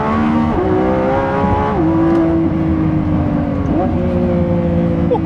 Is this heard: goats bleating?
no